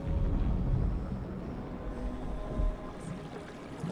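Rushing torrent water in Shadow of the Tomb Raider, a broad continuous roar of churning flow, loud and close, with a brief heavier surge partway through.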